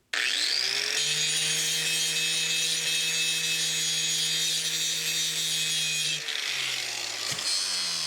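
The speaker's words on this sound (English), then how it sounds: "Need to grind off a bit for the grinding clamp" A power grinder spins up and grinds a welding rod, a loud sustained high whine with a steady tone that drops away near the end before a brief restart.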